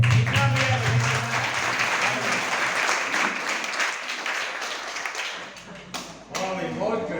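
At a Hindu devotional gathering for the farewell of Maa Gaura, an audience claps in a continuous, lively round close to the microphone, with a voice briefly heard at the start and a few louder taps near the end.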